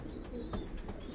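Pigeons cooing softly in a loft where young racing birds are shown for auction, low murmuring coos with a faint high tone running underneath, fairly quiet and steady.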